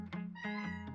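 A cat meowing close by, one drawn-out meow with a short sharper call at the start and end, fairly faint and alone.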